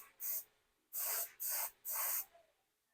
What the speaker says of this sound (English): we're going to bring our airbrush really close to get that fine line down the flowers